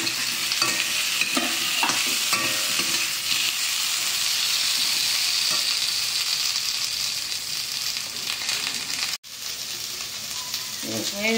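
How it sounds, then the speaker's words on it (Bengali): Potatoes sizzle loudly in hot oil throughout, with occasional scraping and stirring clicks and a brief dropout near the end. "এবার আলু দিয়ে দিই, ভাজা হবে।"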